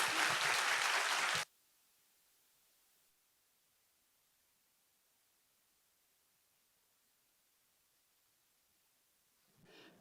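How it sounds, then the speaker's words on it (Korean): A church congregation at a 2022 autumn revival service applauds to welcome the pastor. A loud, short burst of massed clapping cuts off abruptly into near silence, and faint clapping returns at the very end. "목사님 나오실 때 우리 큰 박수로 우리 목사님 환영하겠습니다."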